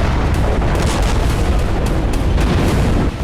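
A Russian missile depot explodes in a continuous loud, rumbling roar of blasts and booms, dense and sustained throughout with no pauses.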